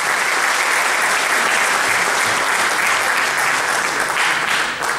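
Loud, sustained applause from an audience at an award ceremony, dense steady clapping filling the room for the whole stretch with no break.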